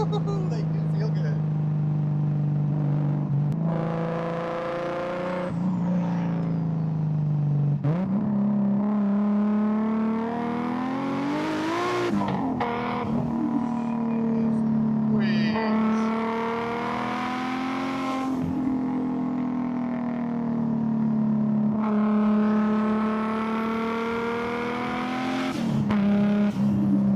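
A Lexus IS300 pulls hard on the road, its engine note climbing through the revs in repeated rising sweeps as it shifts, steady and close, with a voice talking over it at times.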